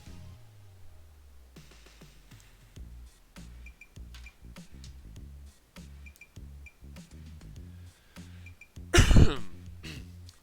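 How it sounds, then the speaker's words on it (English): One loud, harsh cough bursts out near the end, close to the mic, rising briefly over steady background music with a thumping beat. "Sorry for the coughing again."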